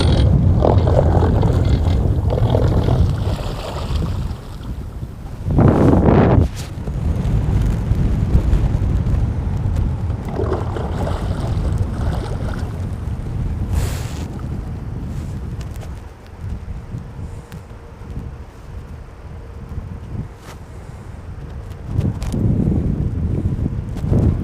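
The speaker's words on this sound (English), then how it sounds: "Here comes the wind." Strong wind gusts buffet the microphone during an outing fishing on the water, a loud, rough rumbling roar that surges and eases over the whole stretch with no voices.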